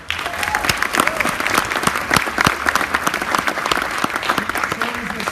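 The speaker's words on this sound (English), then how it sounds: "Give her a round of applause." An audience at a 2015 Junior Achievement pitch competition applauds as judge Dr. Sharon Carrick is introduced. The sustained crowd clapping stays full and steady throughout, with a dense texture of many hands.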